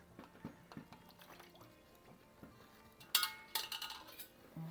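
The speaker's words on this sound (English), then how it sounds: "we need to plunge all this palak into the icy cold water" Spinach (palak) is plunged into icy cold water in a kitchen, with quiet close drips and light clinks, then a brief louder splash and sloshing of water near the end.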